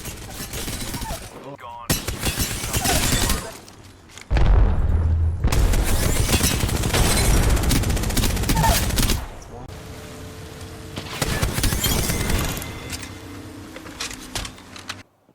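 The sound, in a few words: Devotion machine gun firing in video game Apex Legends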